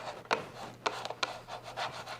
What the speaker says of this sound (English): Burnish this down, just like so.